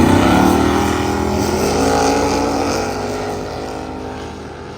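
At a drag race, a naturally aspirated 350 V8 car lines up against a 1973 Toyota. A loud, close engine roar with rising and falling revving tones gradually fades as the cars pull away.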